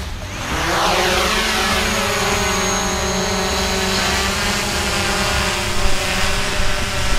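A DJI Mavic Pro quadcopter lifts off in precision takeoff mode, its rotor whine rising with a steady buzz and shifting tones as it climbs, loud and close throughout without voices.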